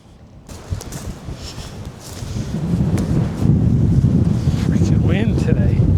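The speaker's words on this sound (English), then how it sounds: "Wind today." Wind gusts buffet the microphone outdoors at a cabin workday site, a low rumbling roar that builds and grows louder over the second half, with faint talk mixed in.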